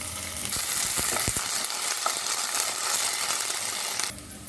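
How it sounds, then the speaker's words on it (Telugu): Ginger garlic paste frying with browned onions in a pan for prawn biryani, a loud, steady sizzle up close, with a few metallic clinks from stirring early on before the sizzle drops away at the end. "ఇప్పుడు ఒక స్పూన్ అల్లం వెల్లిపాయ పేస్ట్ వేసుకుందాం"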